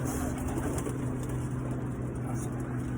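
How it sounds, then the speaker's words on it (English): Pigeons in a coop give continuous low, overlapping cooing, steady and close, with a constant background hum and no distinct talk. "those are my breeders and my show birds and the birds I'm gonna sell for good money"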